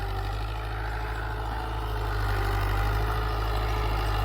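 A farm tractor engine runs steadily at high revs while working with the hydraulics lowered fully, a loud, constant low drone with a strong steady hum that swells slightly toward the end, with no talking.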